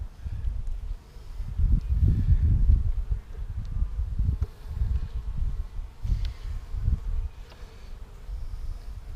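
Honey bees drone and buzz around an open hive while it is worked, a dense low hum that swells and fades, close and steady throughout.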